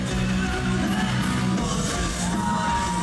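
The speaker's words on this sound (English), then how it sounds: "Simmons is lapping up the applause, the somewhat surprised applause" Dense crowd noise from fans at a GWF professional wrestling show in Berlin, with yells, whoops and sustained cheering filling a loud, continuous wash around Simmons during an eight-person tag team match.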